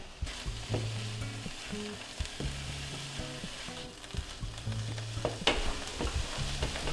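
Bell peppers sizzling in a frying pan, a soft steady crackle of frying with repeated scraping and stirring knocks of a utensil against the pan, close and fairly quiet.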